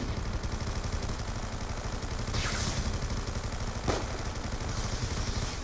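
Continuous gunfire in Call of Duty Black Ops 2 Zombies, dense and steady across the whole stretch, with a couple of sharper bursts standing out against the constant clatter.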